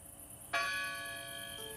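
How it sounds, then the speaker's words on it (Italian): Marangona, the great bell of St Mark's in Venice, gives a single loud strike whose metallic tone rings on and slowly decays, over faint background noise. "Al suono della campana di San Marco, la celebre marangona, venivano chiuse le porte del ghetto a mezzanotte"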